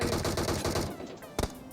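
Rapid automatic gunfire rattles in a battle royale video game during a camping fight around Pochinki, with a dense, loud burst followed by a single sharp shot after a short gap.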